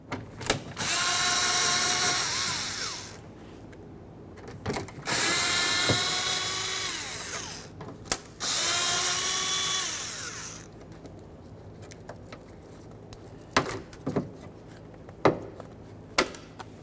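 A power driver whirs in three long bursts, spinning out bolts from a Ford Explorer Sport Trac door speaker, followed by scattered clicks and light knocks as the loosened parts are handled.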